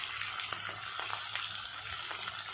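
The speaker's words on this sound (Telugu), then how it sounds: "ఇలా మంచిగా ఫ్రై అయిపోవాలి." Tomatoes and onions fry with turmeric and salt in a pan for Telangana-style ugrani, a steady close hiss and sizzle with a few light stirring scrapes and no talking.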